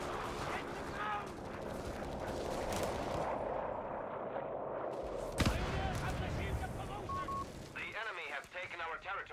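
Artillery and gunfire in the Company of Heroes video game, a dense continuous barrage of booms and rattling shots, with one sharp heavy blast midway and shouted voices over the chaos.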